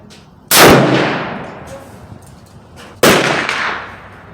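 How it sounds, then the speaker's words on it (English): Two loud, sharp rifle shots from a Browning BLR .358 Win or Henry 45-70, fired with open sights at a 50-yard target, each followed by a fading echo, spaced about two and a half seconds apart. "2 shots at 50 yards with the open sight, left lower target. First shot."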